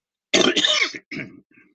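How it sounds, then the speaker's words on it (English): A close, harsh throat clearing, two rough bursts followed by a fainter short grunt. "I have to cough up air."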